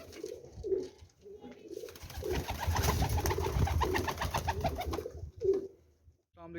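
Teddy pigeons coo in a series of soft, rhythmic, throaty calls close by, with a louder rumbling, fluttering burst in the middle of the run.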